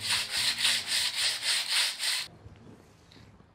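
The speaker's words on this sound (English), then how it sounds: "Then, they will start sawing on 2 sides to prepare the cutting of a perfect edge." Stone block being hand-sawn on two sides, with about seven regular back-and-forth rasping strokes, close and steady, then stopping into quiet with faint scrapes.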